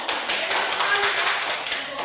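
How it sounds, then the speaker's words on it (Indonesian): Students in a classroom clap for a presenting group, a quick, moderately close patter of hands that keeps an uneven rhythm for the whole short stretch. "Tepuk tangan buat kelompok"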